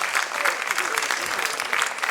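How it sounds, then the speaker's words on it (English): Audience applause for a finalist at a regional quiz final in Mumbai, a dense steady wash of many hands clapping throughout, fairly loud and continuous with faint voices mixed in. "I think Sidharth deserves an equally thunderous applause. Put your hands together for him as well"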